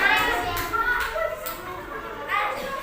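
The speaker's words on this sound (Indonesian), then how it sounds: "kasih tepuk tangan dulu untuk kelompok" Schoolchildren clap for a group in a classroom, giving brief, uneven rounds of applause mixed with children's chatter and voices close by.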